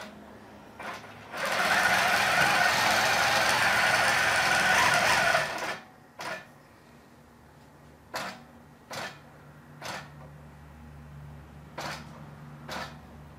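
A ProStitcher computerized quilting machine stitches in the ditch on a quilt, running in one loud, continuous burst of about four seconds, followed by a series of sharp, isolated clicks and taps.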